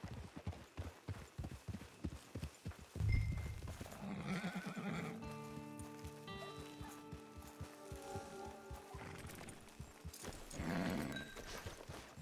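A horse in the Red Dead Online video game clip-clops with steady hoofbeats near a camp, then gives a loud whinny, with more hooves and a second neigh later.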